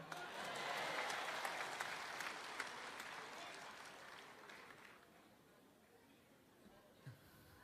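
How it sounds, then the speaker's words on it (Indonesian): A crowd at a public talk on tolerance applauds loudly, and the clapping gradually fades away to near quiet as voices murmur faintly. "Boleh tepuk tangan?"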